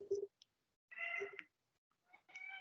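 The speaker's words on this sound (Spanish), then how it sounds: "pero sí lo escuchan a mi gato." A pet cat meows in short, faint calls, several separate cries with pauses between them, heard through a thin, choppy online call connection.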